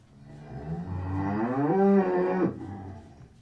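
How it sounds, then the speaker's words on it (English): A cow's moo played back by a smart speaker on request: one long, loud, drawn-out bellow that rises and swells in the middle, then breaks off, heard alone with no talk over it. "Alexa, what noise does a cow make? Here comes a cow sound."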